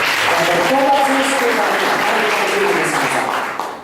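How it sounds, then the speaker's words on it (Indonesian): Church congregation applauding loudly and steadily, a dense wash of clapping with voices mixed in, tapering slightly at the end. "kita beri tepuk tangan yang meriah"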